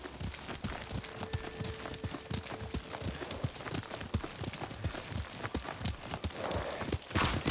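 A horse gallops at a steady rhythm in the video game Ghost of Tsushima, its hooves thudding continuously and close by, and there is no speech.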